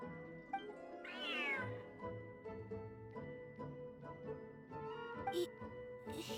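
A large cat in the Genshin Impact game gives a clear, drawn-out meow early on, followed by softer mewing, while speech and background game music continue.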